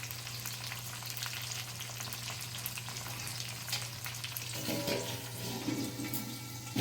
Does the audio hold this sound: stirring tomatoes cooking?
yes